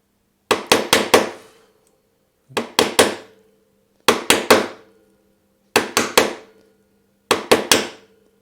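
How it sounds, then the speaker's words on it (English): A chisel struck by hand chops a hinge mortise in wood, giving crisp, loud, close knocks in five quick bursts of three or four blows each, separated by short pauses, with no speech. "walk my way across the mortise such that each of these chops are right next to each other"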